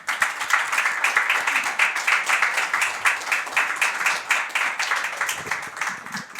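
A congregation at a Sunday church service applauds speaker Miguel Werner with loud, steady, rhythmic clapping that keeps an even pulse throughout, with no voices over it.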